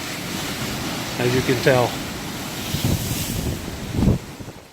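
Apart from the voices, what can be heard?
rough Lake Michigan water and wind at a lighthouse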